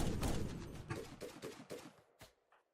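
Gunfire from a shotgun, LMG and rifle in the RimWorld video game: a rapid run of sharp, fairly quiet shots in quick succession that thin out into a few isolated reports before stopping.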